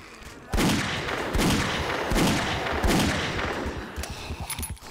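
Gunfire in 7 Days to Die during a mega horde: several loud bursts of rapid shots a second or so apart, then a quicker flurry of shots at the end.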